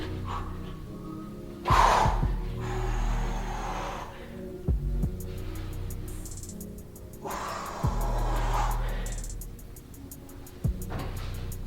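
Forceful exhales during a lower ab exercise with knees and feet lowered from a parallel-grip hang, several long breaths rising and falling near the mic, with thuds and a low hum between them and no talk.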